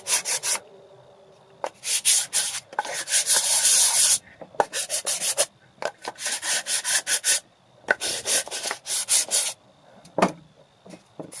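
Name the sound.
sanding the corners of reclaimed wood with 120 grit sandpaper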